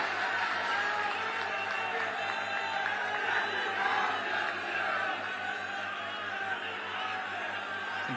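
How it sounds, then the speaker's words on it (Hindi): A crowd at a Lucknow gathering claps steadily in welcome, a dense, even wash of applause that holds throughout without letting up. "बस जोरदार तालियों के साथ अभिनंदन वंदन स्वागत।"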